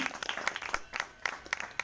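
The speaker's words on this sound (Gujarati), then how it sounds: "તાળી વખત વધાવ્યો રાહુલ સર" An audience at a school farewell event claps to welcome a teacher, Rahul sir: a faint, scattered round of hand claps with uneven bursts, heard from a distance with no talking over it.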